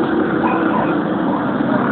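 A motorized tricycle engine runs with a steady, loud, close droning rumble that barely changes over a brief stretch, with no voices.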